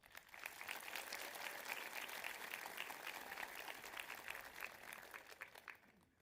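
A crowd at a high school graduation ceremony gives a long round of applause, a faint and distant wash of many hands clapping that holds steady for several seconds before fading out.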